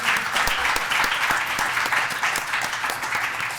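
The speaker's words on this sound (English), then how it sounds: "let's clap to that." Dense, steady applause from a symposium audience, many hands clapping together at an even level for several seconds with no talk over it.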